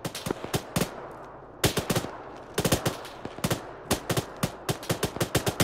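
Rapid bursts of automatic gunfire in an ArmA3 military firefight, with clustered volleys of sharp, loud shots separated by brief pauses, repeating throughout with no talk.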